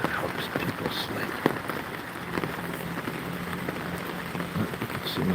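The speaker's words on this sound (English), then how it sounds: "listen to this rain." Steady rain from a North Carolina rainstorm falls in a dense, even hiss with scattered drops pattering nearby, continuous throughout with no voices.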